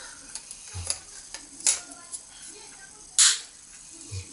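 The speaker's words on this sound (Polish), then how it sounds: "Tu sobie wrzucam aparat." A camera is clicked into a sports camera housing, giving a few short plastic snaps and taps with two sharper clicks, close and fairly quiet, with no talking.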